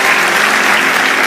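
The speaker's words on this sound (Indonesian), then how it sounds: "berikan tepuk tangan bagi Tuhan Yesus Kristus" A church congregation claps together, a dense and steady roar of many hands that fills the room evenly throughout, with no voices rising above it.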